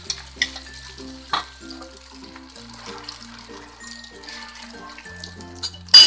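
Beaten egg frying in a little oil in a pan while preparing Indian egg bread, a soft, steady sizzle with a few sharp clatters, under continuous background music.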